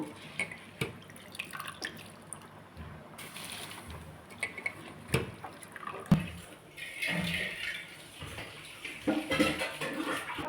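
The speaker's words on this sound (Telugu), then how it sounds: "ఈ వాటర్లోకి రైస్ వేస్తున్నాను." Basmati rice for chicken dum biryani is tipped into a pot of water, giving irregular close splashes, drips and pouring bursts over a quiet background, no talking.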